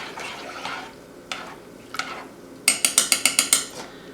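Spoon stirring boiling quinoa in a pot, a few scattered scrapes followed by a quick run of about seven sharp metallic clinks against the pot.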